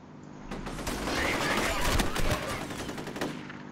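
Gunfire from a weapon in the video game FEAR, a dense, sustained burst of rapid shots that builds and fades over a few seconds, with some game noise underneath.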